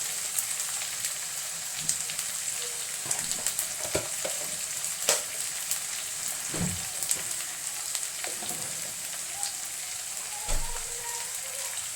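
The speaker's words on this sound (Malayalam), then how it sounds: "ഇഞ്ചിയും വെളുത്തുള്ളിയും കാന്താരി മുളകും നന്നായിട്ടൊന്ന് മുരിഞ്ഞ് വരട്ടെ" Ginger, garlic and small hot chilies sizzle and crackle steadily in hot oil in a pan for prawn pickle, with a constant frying hiss, occasional sharper pops and stirring clatters.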